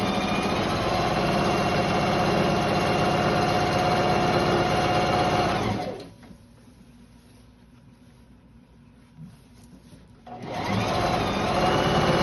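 Sewing machine stitching close up, a loud, steady mechanical whir that stops abruptly for a few seconds of quiet and then starts again at the same pace. Nobody speaks.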